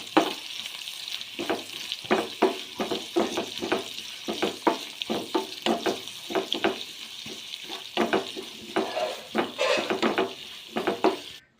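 Green chillies, onion and garlic sauté in a pan for a tomato fry, with a steady sizzle broken by rapid, rhythmic scrapes of a spoon stirring against the pan, close and fairly loud with no talking.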